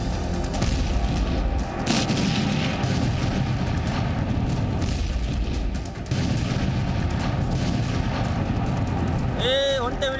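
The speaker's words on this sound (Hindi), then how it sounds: "एयरबेस के अंदर धमाका हुआ," An explosion at an airbase in news footage rumbles as a dense, loud, sustained roar with low booming throughout, a brief dip partway, and a sharp electronic chirp near the end.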